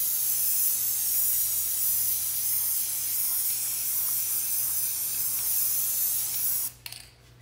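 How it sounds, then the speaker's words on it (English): Steady, close hiss of liquid being sprayed in a light coat over a water slide decal on a 30oz tumbler, continuing for several seconds and then cutting off abruptly. "I'm just going to spray it like you normally would, a light coat"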